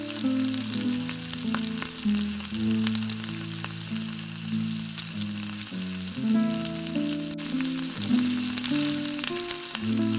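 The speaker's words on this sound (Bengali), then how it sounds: "পেঁয়াজটা একটু হালকা লাল করে ভাজবো।" Chopped onions sizzle steadily in a kadai as they fry to a light golden red, a continuous close crackle running beneath a prominent melodic background tune.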